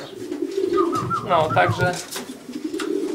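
Breeding pigeons coo in a loft, their low throaty calls close and steady beneath people chatting nearby.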